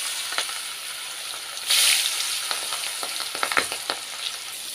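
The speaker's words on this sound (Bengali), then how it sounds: "তো দেখো তেলটা গরম হয়ে গেছে, এবার মাছগুলো একে একে ছাড়তে হবে এতে।" Fish frying in hot oil in a wok, a steady sizzling crackle with sharp pops and a brief louder hiss burst as pieces hit the oil.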